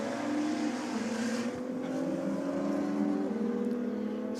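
A Nissan Skyline and a Toyota Corolla drag race in a roll race, engines droning with rising and falling harmonic tones and wind rush, loud and sustained.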